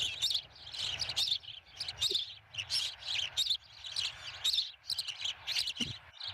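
Wild birds calling at a ranch nature session, a series of bright repeated chirps and tweets in quick bursts, moderately close over a quiet background, with no talking.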